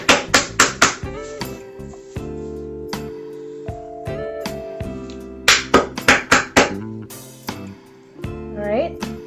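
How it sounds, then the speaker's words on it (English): Candy cane crushed inside a bag, a series of sharp, loud thumping whacks in bursts with brief pauses, brittle cracking clinks between hits, close and without talk. "we're going to break up the candy"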